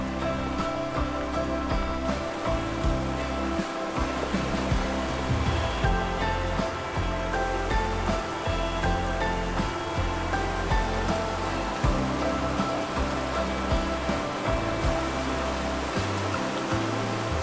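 A loud, steady roar of a rushing river in Sweden fills the whole stretch, broad and continuous with no voices.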